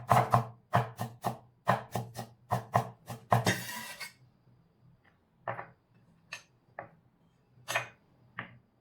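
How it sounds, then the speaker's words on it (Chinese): A knife chops ginger into mince on a cutting board for yu-shiang eggplant: about ten quick, crisp strikes in a steady burst, then a pause and a few scattered slower cuts, close and alone. "姜切成姜末"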